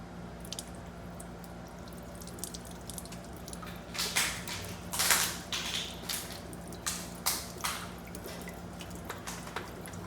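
Water dripping and squishing out of a cleared BMW X5 passenger-side sunroof drain tube, irregular close splashes and trickles that grow busier after a quiet start.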